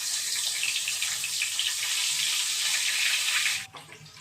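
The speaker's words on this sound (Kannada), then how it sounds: "ಈಗ ಫಿಶ್ ಅನ್ನ ಅದರೊಳಗೆ ಹಾಕ್ಬಿಡ್ವ ಎಣ್ಣೆಗಾದಿಗೆ" Dry fish fried in hot oil on a tawa, giving a loud, steady broadband sizzle that holds evenly for several seconds and then cuts off abruptly near the end, leaving quiet background.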